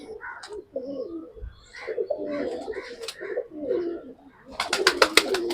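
Pet pigeons kept in boxes coo repeatedly nearby in soft, throaty rolls, with light rustling and a short burst of flapping or scuffling near the end.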